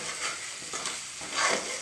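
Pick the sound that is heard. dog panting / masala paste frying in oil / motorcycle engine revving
masala paste frying in oil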